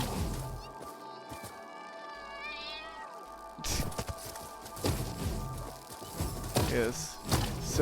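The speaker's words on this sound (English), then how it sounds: "we have a cat coming for us" A cat creature in the video game Satisfactory lets out a rising, wavering meow-like cry, followed by busier crashing game noise and thuds, with a person talking over much of it.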